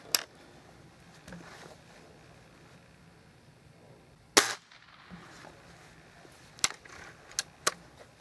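Several sharp supersonic cracks of Gamo Whisper air rifle shots over a quiet background: one strong crack midway, then three smaller snaps near the end.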